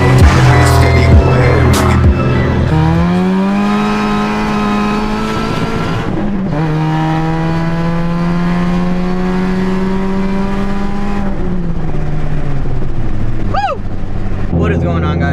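Chevrolet Cobalt SS with a downpipe pulling hard on a street run: a loud, close engine revs up through the gears, its steady climbing drone broken by brief drops at each shift.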